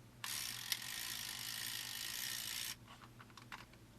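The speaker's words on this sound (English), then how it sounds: "these motors don't sound too good" Small motor from a 1984 Robotix R-1000 construction kit, running on low batteries, gives a steady ratcheting, gear-driven whir for about two and a half seconds, then stops, leaving a few faint clicks.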